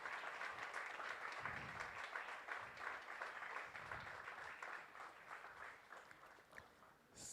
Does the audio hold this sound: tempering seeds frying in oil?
no